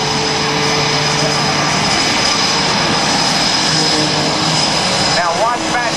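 Continuous loud drone of an aerobatic propeller plane, Matt Chapman's, in sliding flight at the 2010 NAS Oceana airshow. It holds steady throughout, with a faint voice over the engine near the end.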